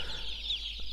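Newly delivered chicks at a farm cheep in a dense, continuous chorus of high thin peeps, close and steady over a low background hum.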